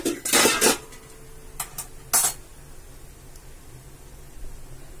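A steamer pot of sathu maavu puttu has its metal lid lifted off, producing a few loud clanks and scrapes near the start, followed by lighter taps and a brief clink before a quiet hiss.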